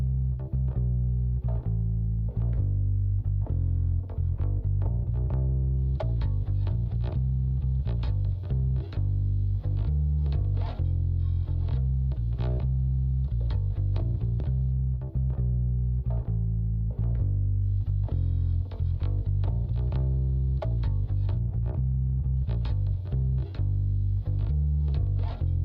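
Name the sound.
distorted bass with top end boost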